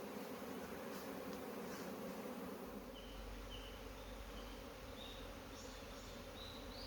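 A swarm of honeybees buzzes in a steady, faint, dense drone outdoors near grass and a creek, with occasional individual bees whining past close by.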